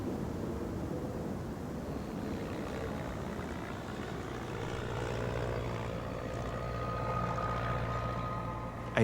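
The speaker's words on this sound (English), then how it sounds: "I hear this plane, and he's above me." An airplane passes overhead above a remote island, giving a steady low droning hum that holds for several seconds as a faint distant rumble, with no voices.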